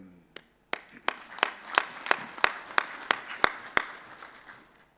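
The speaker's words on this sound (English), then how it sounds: "Let us applaud ourselves for a job well done." At the closing session of a South Africa–Zimbabwe Bi-National Commission, sparse, slow applause with a dozen or so distinct, evenly spaced claps, close and clear, tapering off over about four seconds.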